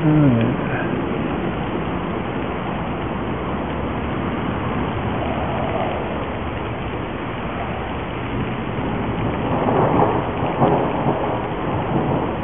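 A lightning storm with thunder rumbling through steady heavy rain, loud and continuous throughout, with a brief swell of thunder near the end and no talking.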